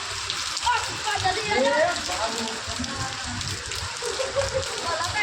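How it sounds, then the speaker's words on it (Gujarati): Heavy rain pours steadily onto surfaces outdoors, a dense continuous patter and wash. A voice talks over it at times. "વરસાદ ચાલતો છે જોરદાર"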